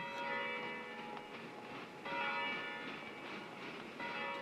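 Italian church bells ring steadily with a rich, sustained metallic resonance, swelling in waves as new strikes layer over lingering tones, heard from some distance.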